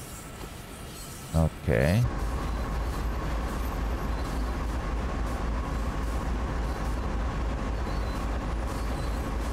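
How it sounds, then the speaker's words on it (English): Simulated freight train in Train Sim World 2 on the Sand Patch Grade, a steady low rumble of locomotive and wagons running throughout, with a brief burst of voice and a short rising tone near the start. "there is another train out there."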